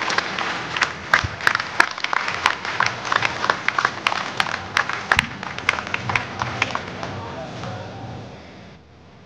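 An audience at a water-saving town award ceremony in Montpellier claps in a lively burst of sharp, individual hand claps, which thin out and stop near the end.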